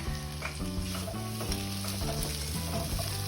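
Tofu and red pepper are stir-fried in a pan with chopsticks, giving a steady, loud sizzle with scraping stirs throughout, over a tonal background.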